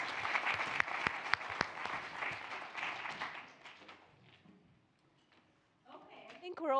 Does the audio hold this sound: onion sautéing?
no